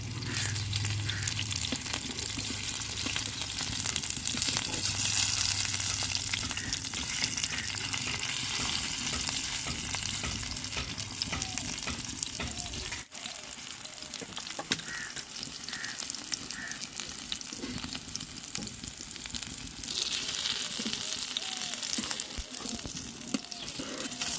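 Cabbage and lentil paturi frying in a pan, with a continuous, even sizzle and hiss holding steady throughout and occasional faint taps and clinks.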